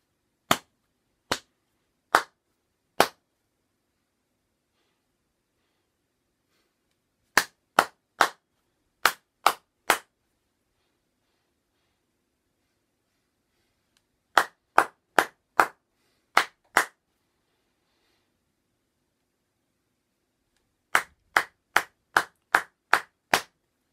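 Children in an early years music class clap rhythms back to a teacher, in four separate bursts of four to six sharp, close claps with silent gaps between them.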